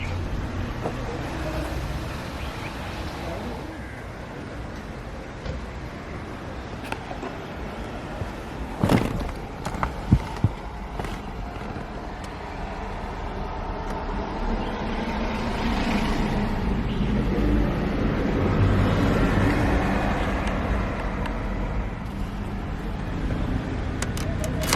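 A 2003 BMW 330Ci's engine cranks with a few sharp clicks and catches, then settles into a steady, fairly loud idle that swells slightly before holding even.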